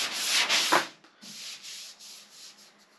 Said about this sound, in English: take the long board with 220 on it. We're going to hit it back and forth.